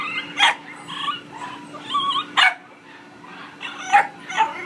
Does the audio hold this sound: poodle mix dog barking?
yes